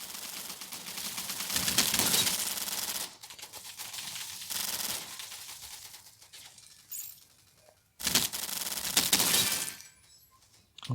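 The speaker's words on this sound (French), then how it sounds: "Non, on passe à l'AK-47." AK-47 gunfire in a shooting video game, heard as loud sustained automatic bursts separated by short pauses, with clattering sharp transients and no talking.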